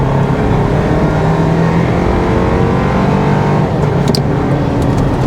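A 2024 Toyota Land Cruiser with a four-cylinder hybrid engine accelerates hard uphill, its coarse engine drone loud and steady from inside the cabin with continuous road noise.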